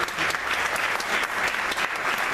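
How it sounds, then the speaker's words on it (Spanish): An audience at a youth theatre gathering in Necochea claps in sustained, dense applause throughout, a steady wash of many hands with no voices standing out. "Así que un aplauso para todos."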